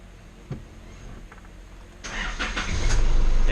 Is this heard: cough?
no